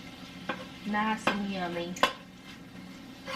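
Ground meat browns in a pan for lasagna, a soft sizzle under scraping stirs and clinks of a utensil against the pan, close by, while a person speaks briefly.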